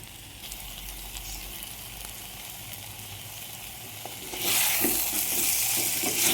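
Jackfruit seed and drumstick aviyal mixed in a pan with curd, a steady soft sizzle that grows noticeably louder and brighter toward the end, with faint stirring scrapes, no voices.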